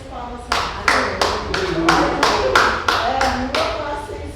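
A church congregation claps in unison, about eight sharp rhythmic beats at a steady pace, with voices and music murmuring underneath.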